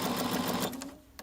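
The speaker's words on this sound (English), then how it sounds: "And then go ahead and sew over that and turn." Sewing machine stitching elastic onto a homemade fabric face mask, a short close burst of rapid mechanical whirring that slows and stops within about a second.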